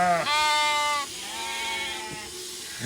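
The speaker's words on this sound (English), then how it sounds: "And so we've got the lambs as well." Shropshire sheep and lambs in a pen at shearing time give several loud, drawn-out bleats close by, one after another, over a faint background murmur.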